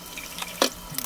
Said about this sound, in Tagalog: Maghuhugas naman ako ngayon. Hugasan ko na itong mga pinag kainan